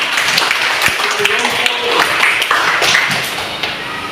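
Students in a classroom clap together in a brief, close burst mixed with scattered taps and thumps, with voices in the room.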